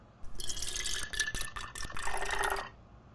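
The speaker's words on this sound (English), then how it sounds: "You hear the sound of pouring water" Water poured from a pitcher in several bursts, the flow starting and stopping a few times with short gaps, a close, bright splashing that runs for under three seconds with no talk.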